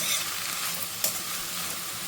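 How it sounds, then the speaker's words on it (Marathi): Capsicum sautés with salt in a pan, a bright continuous sizzle with one sharp spoon clink midway. "यामध्ये चांगली अशी परतून घेते"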